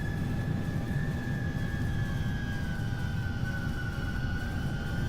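Airbus A340-300 jet engines taxi in X-Plane 12, a steady loud roar and rumble with a sustained high whine that drifts slowly lower, continuous and unbroken, with no talking.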